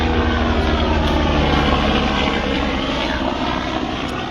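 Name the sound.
helicopter flying overhead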